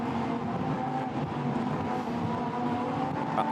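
Lamborghini Super Trofeo race cars lapping Spa, a steady loud engine drone that holds throughout without any clear pass-by peak or break, with no talk over it.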